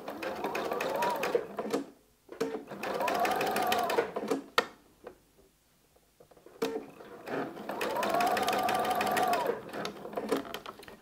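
Sewing machine running in long bursts while stitching fabric for a midi skirt, with short pauses between runs and a brief voice in a gap.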